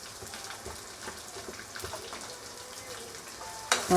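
Onion and garlic sautéing in a pan with curry leaves for tamarind rice, a soft steady sizzle with faint stirring clatter close by, ending with a brief louder clank.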